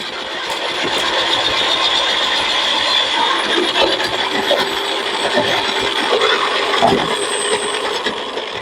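An electric vegetable cutter runs while slicing potatoes, a continuous mechanical whir and rattle with some sharper knocks and clatter as the pieces are cut.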